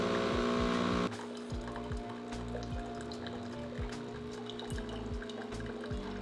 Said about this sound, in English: press the button 3 times in a row, and this is going to start the rinsing cycle